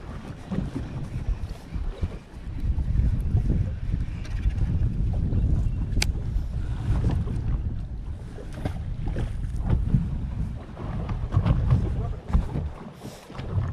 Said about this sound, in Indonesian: Makin kuat pula ombaknya ni.